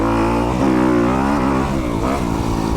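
A 2021 Kawasaki KX250X dirt bike revs hard while riding on a straight track, its loud engine note rising and falling continuously and close by.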